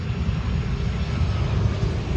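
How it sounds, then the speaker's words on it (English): Airplane engines roar at Cleveland airport on a foggy evening as planes line up for takeoff, a steady broad rumble heavy in the low end that holds level and continuous throughout. "Got a couple airplanes lined up to take off too,"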